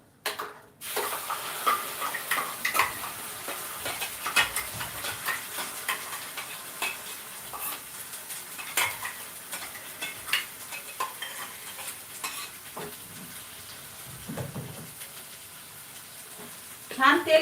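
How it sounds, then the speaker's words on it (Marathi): Ground gravy for paneer masala sautés in oil in a pan, a close, steady sizzle with frequent spoon scrapes and stirring clicks, while a voice talks over parts of it. "आता आपण ही बारीक केलेली ग्रेव्ही यामध्ये घालून परतून घेणार आहोत"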